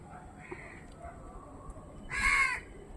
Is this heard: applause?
no